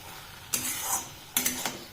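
Okra and potatoes are stirred in a pan for a Bengali mustard-poppy okra dish, with two short scraping strokes of a metal spoon against the pan over a faint background sizzle.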